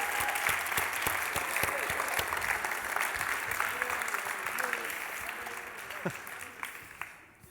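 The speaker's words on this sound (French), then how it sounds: "On les applaudit, tout le monde, quand même, pour les encourager." An audience at an amateur competition applauds to encourage the teams, a broad, fairly distant wash of clapping that slowly tapers off, with some voices mixed in.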